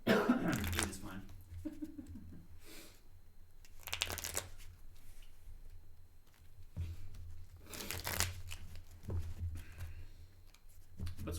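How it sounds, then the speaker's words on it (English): Playing cards shuffled during a board game session, several brisk riffling bursts with pauses between them, close and fairly quiet, with people talking softly in the background. "Can I just shuffle properly?"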